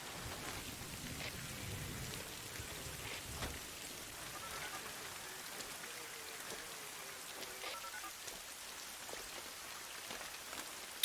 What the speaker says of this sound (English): I wonder if this rain is meant to be like reminiscent or linked to the purple rain.